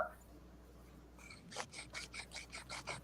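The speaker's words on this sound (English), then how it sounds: "Grinder ASMR." A grinder being turned by hand after a quiet start, producing a run of regular rasping, scraping strokes about four per second, close and fairly soft.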